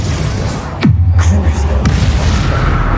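A Bombarda blasting spell explodes in Hogwarts Legacy: one deep boom with a sweeping low rumble near the one-second mark. It rings out over dense, noisy game ambience, with a few fainter thuds following.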